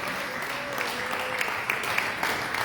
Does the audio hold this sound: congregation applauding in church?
yes